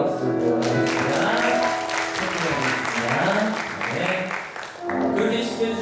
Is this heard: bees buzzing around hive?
no